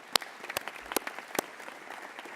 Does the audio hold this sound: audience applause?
yes